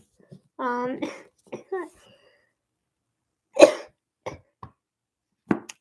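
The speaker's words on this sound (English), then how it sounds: "Having a coughing attack." Several short, harsh coughs come in scattered bursts, close by, mixed with brief vocal sounds.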